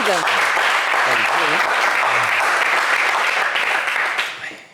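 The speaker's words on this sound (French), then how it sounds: "Allez, des applaudissements pour Wilfried." Studio audience at a French TV game show applauds for a contestant, a dense steady wash of clapping with a few voices and cheers mixed in, fading out at the very end.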